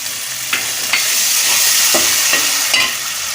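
Onions for beef khichuri sizzle steadily in a hot pan and are stirred, with a spatula scraping at regular intervals over the constant frying hiss, close and loud.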